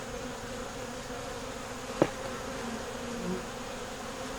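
Honeybees buzz steadily and close on a hive frame where they are repairing wax moth damage, forming a continuous drone with one brief bump partway through and no speech.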